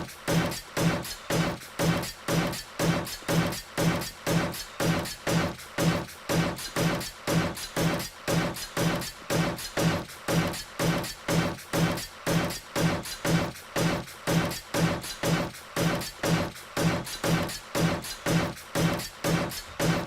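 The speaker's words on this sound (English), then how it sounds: "the sound you're hearing is actually for the old block being upgraded." Steady, rapid repeating clicks and thuds from 7 Days to Die with the End Z mod, evenly spaced with no pauses, as blocks are placed and upgraded one after another.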